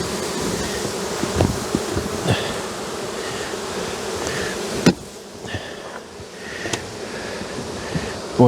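Honey bees buzz steadily around a hive during colony work, a dense continuous drone of many insects close by, with occasional brief knocks and handling noises.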